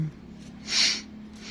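One short, sharp sniff through the nose, a quick hissy intake of air heard close up against a low hum.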